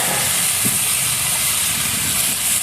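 Loud, continuous steam hiss as water is poured into a hot pan after frying, close and steady with no voices.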